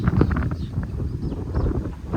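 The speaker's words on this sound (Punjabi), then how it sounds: "ਹਵਾ ਚੱਲ ਰਹੀ ਆ ਹਵਾ ਬਾੜੀ ਤੇਜ਼ ਹੈ" Strong wind blowing across an open mustard farm field, a heavy low rumbling buffet against the microphone, steady and close, with no talking.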